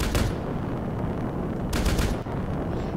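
Bursts of automatic gunfire in the Legends of Azulgar PC game, a loud rapid volley at the start and another around the middle, over a steady rumbling background.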